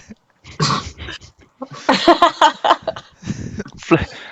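A voice imitates a dog, Lassie, with a string of gruff, breathy barks and yelps in uneven bursts, loud and close, within a comic Christmas ghost story reading.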